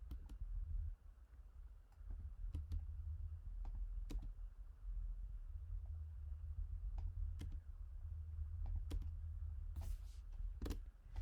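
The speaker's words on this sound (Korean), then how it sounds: "줄글을 한번 엔터 쳐서 내려볼게요" Fingers tapping a computer keyboard while laying out text in Photoshop, scattered crisp key clicks with a few firmer presses over a steady low hum, close and fairly quiet, no talking.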